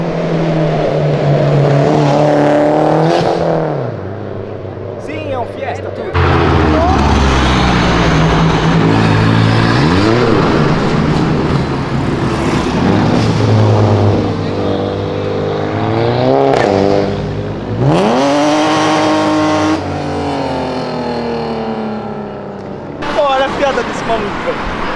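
Loud, close revving of a tuned Citroën DS3 Stage 4 engine: repeated sharp blips that climb and fall in pitch, with throaty roar between, while people shout and talk excitedly around it.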